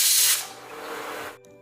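A pressure cooker of rice on medium heat vents steam in a sharp, loud hiss that tails off into a softer rush before cutting out abruptly after little more than a second.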